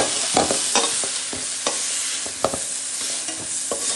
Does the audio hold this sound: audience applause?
no